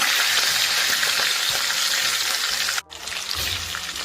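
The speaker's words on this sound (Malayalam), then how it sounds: "അപ്പോൾ ബാക്കിയുള്ള പീസും നമുക്ക് പൊരിച്ചെടുക്കാം കേട്ടോ." Chicken pieces frying in hot oil in a pan, a loud steady sizzle with crackling throughout, briefly cutting out near the end before resuming.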